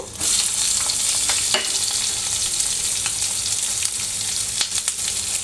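Chopped green chilies and onion sizzle loudly in hot oil, a steady dense frying hiss with occasional stirring clicks and scrapes, close and continuous with no talking.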